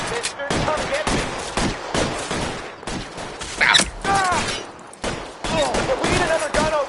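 Shootout gunfire in L.A. Noire with repeated bursts of loud shots that start and stop, mixed with shouting voices and the clatter of battle.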